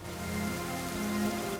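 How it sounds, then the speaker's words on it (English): Steady rain falls in a murky, rainy World of Warcraft Pandaria zone, a soft continuous hiss of drops on surfaces with faint tonal game ambience underneath, no voices. "Now, it's a little murky and rainy at the moment here"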